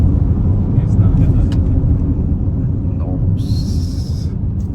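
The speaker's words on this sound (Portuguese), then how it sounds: "Vou dar mais uma acelerada para poder terminar" A 2026 Ford Territory accelerates hard, heard from inside the cabin as a steady, loud, low engine and road rumble that holds constant throughout.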